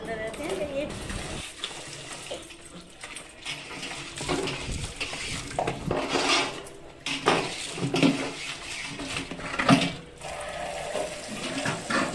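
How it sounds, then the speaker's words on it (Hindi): Large pots and pans scrubbed and rinsed by hand in an outdoor home courtyard, with steady clattering of metal utensils and running water throughout, and someone talking intermittently over it. "बड़े बड़े बर्तन जो है ना मैं आंगन में ला कर ही माँजती हूँ"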